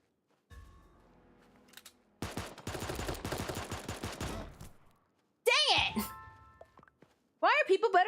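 Rapid gunfire bursts from the cartoon battle royale game Super Animal Royale, a dense volley of shots in the middle followed by sharp game effects, with speech during the clip.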